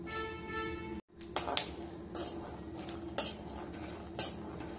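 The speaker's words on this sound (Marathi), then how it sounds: "पहिले मी ना हे शेंगदाणे भाजून घेते। शेंगदाणे व्यवस्थित खरपूस भाजून घ्यायचे" Peanuts dry-roasting in a pan, with a metal spoon scraping and clinking against the pan as they are stirred, a few sharp knocks over a low background.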